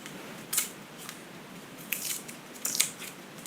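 A small package holding a brass panel intercom being unwrapped, a few separate crinkling and tearing bursts of paper or plastic close by against a quiet background, with no talking.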